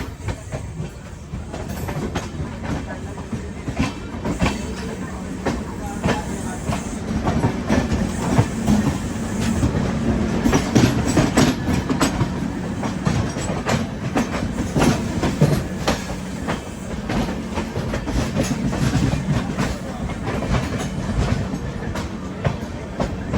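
An Amrit Bharat Express passenger train running beside a parallel double-decker train near Ghaziabad, a loud continuous rumble of wheels on rail with rhythmic clickety-clack and some metallic squeal, heard from on board with no talking.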